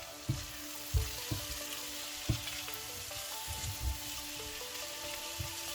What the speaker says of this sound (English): Let me give that a stir and add some more.